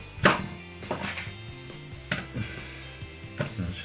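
A knife slicing through a strawberry on a board: four or five distinct soft chops spaced about a second apart, close and fairly quiet, over a faint background hum.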